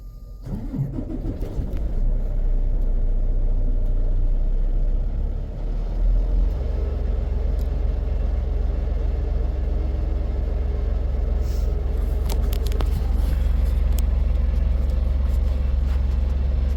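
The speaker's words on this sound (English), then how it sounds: "the truck just started up" A large engine rumbles continuously at close range, a low steady drone that holds throughout with no speech.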